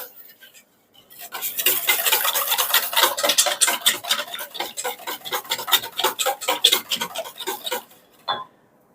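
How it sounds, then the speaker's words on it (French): A spoon stirs courgette tart filling made with a little milk in a bowl, giving a rapid, rhythmic run of clinking scrapes that stops briefly, then a last clink. "Je vais remuer un petit peu."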